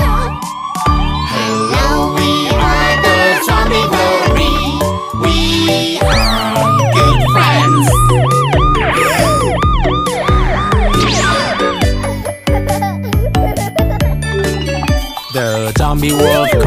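A cartoon ambulance siren in a children's nursery rhyme song wails in rising and falling sweeps over bouncy, loud music, repeating throughout.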